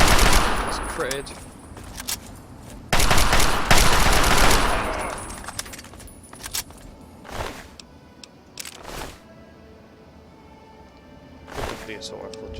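Assault rifle gunfire in Fallout 3 comes in short, loud bursts of rapid shots, a sustained volley early on and then scattered bursts separated by quieter gaps, with a voice talking at times.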